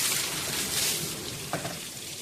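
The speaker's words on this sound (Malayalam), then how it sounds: "ബക്കറ്റ് വെച്ച് വയ്ക്കാം, വെള്ളം ഒഴിക്കാം." Water from a bucket splashes onto a Tata Tigor car during a wash as a steady, moderately loud rushing pour that gradually eases off.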